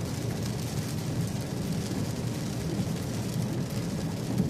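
Steady rain falls during an August storm, a dense, even wash of hiss that holds unbroken at moderate level for the whole stretch, with no talking.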